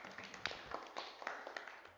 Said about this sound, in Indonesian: Tepuk tangan buat Safiki.